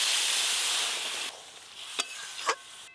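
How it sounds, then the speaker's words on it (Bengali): Water poured into frying mustard okra curry (sorshe bhendi) makes a loud, steady sizzling hiss that cuts off abruptly, followed by a quieter pan with two light clinks. "এবার পরিমাণ মতো জল দেব"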